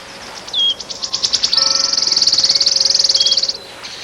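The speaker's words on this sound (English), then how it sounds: "It was the wood wren, or wood warbler." A wood warbler sings a few thin notes and then an accelerating, shivering trill that runs for about two seconds. The song is loud and close.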